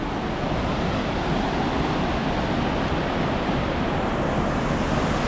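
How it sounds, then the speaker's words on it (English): Steady rushing of flowing river water in Lourdes, a dense, unbroken broadband roar heard up close with no voices over it. "Can you hear this water?"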